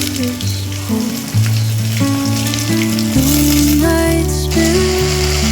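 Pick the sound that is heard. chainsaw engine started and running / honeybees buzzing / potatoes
potatoes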